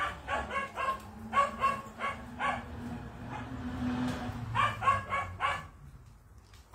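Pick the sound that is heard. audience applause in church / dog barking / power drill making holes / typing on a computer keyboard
dog barking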